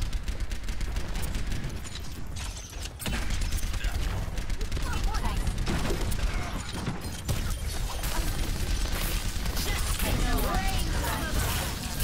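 Dense, nearly constant weapon fire and impacts in a hero shooter match in Overwatch or Paladins, with rapid shots and bursts layered over busy game effects while a voice talks excitedly throughout.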